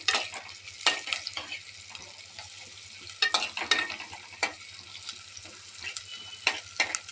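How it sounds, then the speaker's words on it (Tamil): Oil sizzles steadily in a pan frying curry leaves, onions, dried red chilies, cashews and peanuts while a spoon stirs and scrapes in bursts, close by and moderately loud. "கருவேப்பிலை, வெங்காயம், வரமிளகா, முந்திரி பருப்பு, வேர்க்கடலை நல்லா ஃப்ரை பண்ணிக்கலாங்க."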